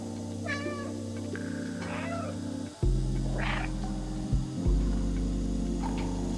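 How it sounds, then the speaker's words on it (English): A cat in Stray rides in a bucket and meows several times over a loud mechanical hum, with a sharp clunk partway through and the hum getting louder after it. "Just a cat in a bucket."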